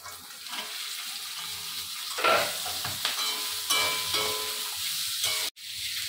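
Lentils, fenugreek and amaranth stems frying in oil for a keerai thandu kulambu: a close, steady sizzle that swells as ingredients drop in, with stirring scrapes and a brief cutout near the end.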